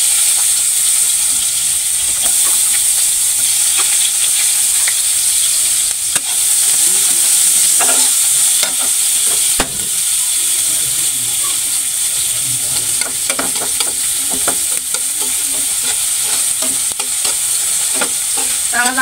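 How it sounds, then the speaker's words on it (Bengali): Chopped onions go into a pan of hot oil after fish has been fried, giving a loud, steady sizzle that runs throughout, with scraping stirs now and then close by and no talking. "এখন পেঁয়াজগুলো দিয়ে দিতেছি"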